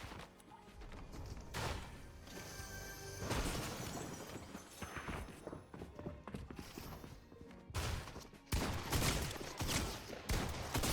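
Gunfire in an online shooter game, bursts of rapid shots and sharp cracks coming in uneven volleys with brief gaps between them, fairly quiet overall.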